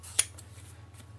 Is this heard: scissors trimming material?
yes